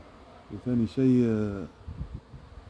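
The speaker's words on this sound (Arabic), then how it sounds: "وهو نحل بري، هذا نحل بري" Wild bees buzz close by in a wild outdoor spot, a couple of droning hums rising and falling for about a second, with a voice speaking softly afterward.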